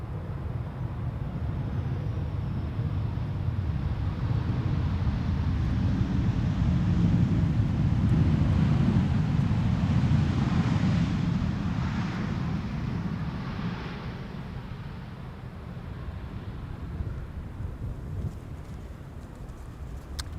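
A Transavia airliner arriving from Barcelona descends onto Schiphol's Polderbaan runway, its deep engine rumble swelling to a loud peak midway and slowly fading, heard outdoors through heavy wind buffeting on the microphone.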